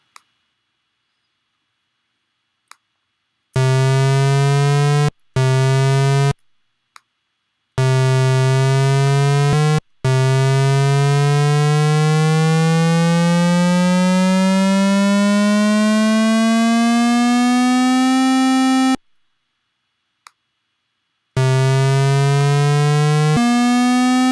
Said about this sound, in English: it's in a glide form, so we can access all the pitches in between the lowest pitch and the highest pitch